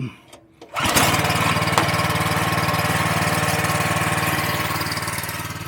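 A gas-engine water pump used to drain a flooded pond starts after a brief pull, then idles loudly and close by in a steady, pulsing drone that eases slightly toward the end.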